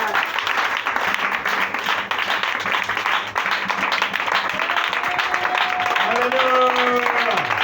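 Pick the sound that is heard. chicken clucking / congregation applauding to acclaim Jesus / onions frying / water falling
congregation applauding to acclaim Jesus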